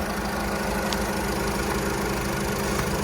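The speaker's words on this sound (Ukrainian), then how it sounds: "Двигун працює чітко." A Volkswagen Golf 5 engine idles steadily and evenly, with a continuous low mechanical hum close by and no talking.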